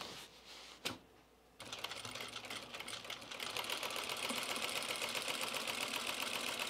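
A sewing machine fitted with a buttonhole attachment runs on jeans, a fast steady mechanical clatter starting after a brief pause and continuing evenly at close range.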